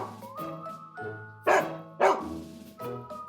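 A big dog barks in a sound effect, several deep woofs in an uneven rhythm with two louder, sharper barks in the middle, close and clear with no talk.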